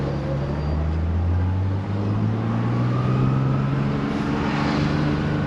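A car cruises steadily on its first real test drive, a low continuous engine and road drone with mild tire rumble, fairly close and unbroken, with no talking.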